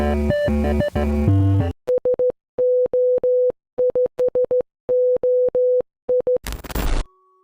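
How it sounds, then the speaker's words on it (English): A horror game's main menu theme, a steady electronic tone pulsed in a Morse code SOS pattern of short and long beeps after a brief chordal intro, ending in a burst of noise. "the main menu theme. It's literally Morse code for SOS, but set to a rhythm"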